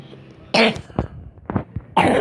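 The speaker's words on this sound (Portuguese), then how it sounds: "Desculpa pela tosse." Three sharp coughs, close and loud, spaced about a second apart, with quieter throat sounds in between.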